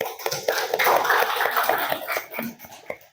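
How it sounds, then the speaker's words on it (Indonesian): Classroom applause after group presentations, a scattered patter of many hands clapping steadily for about three seconds with some voices murmuring underneath. "Kita beri tepuk aplaus ya."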